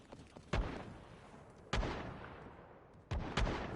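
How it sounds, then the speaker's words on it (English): Sniper rifle fire in Fortnite, three sharp cracks spaced about a second apart, each followed by a decaying rumble, fairly distant with no talk. "That's a sniper I'm hearing, correct? Yeah, that's a sniper."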